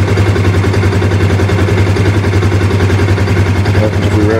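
A 2014 Polaris Sportsman Ace ATV fitted with a K&N air filter idles close by, a loud steady low rumble that holds evenly throughout with a slight wobble near the end.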